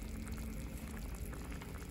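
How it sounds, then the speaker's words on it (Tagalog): Chicken and carrots simmer in a pot of liquid for afritada, a steady close bubbling boil with a continuous watery hiss and no speech over it. "Ayan, kumukulo na siya."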